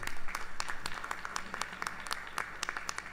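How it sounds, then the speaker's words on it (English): Scattered hand clapping from a congregation at a Krishna temple anniversary service, a modest round of applause with distinct individual claps, moderately quiet and fairly near, tapering over a few seconds. "I think he deserves another round of applause."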